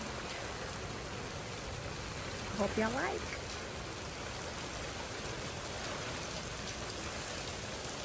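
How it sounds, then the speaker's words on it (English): Steady rain falls in a garden in the evening, a dense even patter close by, with a person briefly speaking partway through. "Some beautiful rain in my evening garden."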